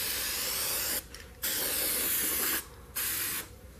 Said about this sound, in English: This is in an aerosol style, which works out very nice. And we're just going to put a quick coat